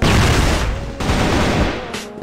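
Loud, close bursts of shotgun fire in a multiplayer shooter game, heavy booming blasts in quick succession with a sharp new report about every second, filling the whole clip.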